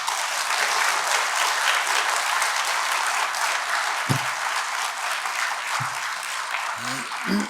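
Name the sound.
audience applause welcoming a speaker in church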